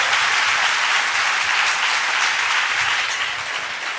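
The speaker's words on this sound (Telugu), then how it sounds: "చప్పట్లు కొట్టి మహిమ పరుద్దాం" A church congregation at a Christian sermon claps together in praise, producing a loud, continuous wash of applause that stays dense and steady, then eases slightly toward the end.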